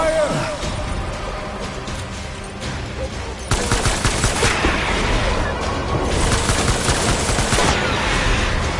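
Dense, continuous gunfire and automatic bursts in the Death Stranding video game, loud and sustained throughout with some booming hits, intensifying midway, with a voice faintly present beneath.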